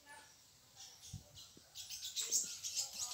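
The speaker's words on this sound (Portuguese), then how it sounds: "E aqui também tem passarinho, tá zoando ali, tá cantando." Small birds chirp and tweet on a rural smallholding, a scatter of faint, high twittering calls that grows busier toward the end over a quiet outdoor background.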